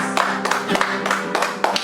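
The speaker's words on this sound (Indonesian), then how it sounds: "Beri tepuk tangan buat Tuhan Yesus" At a children's church service, a small group claps in quick, uneven bursts for a couple of seconds.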